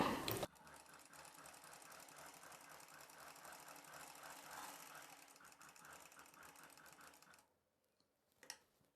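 A sewing machine runs steadily for several seconds stitching the second side of a boat neck blouse, a close, continuous rattling hum that stops near the end, followed by a brief faint clack.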